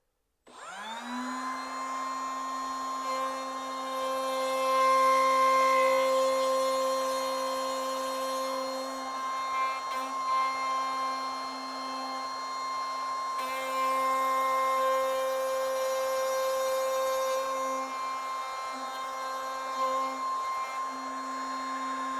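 A router spins up to a high, steady tonal whine while cutting dovetails in wood for a keepsake box, with its pitch dipping slightly under load over a long continuous run, close and loud, with no voices.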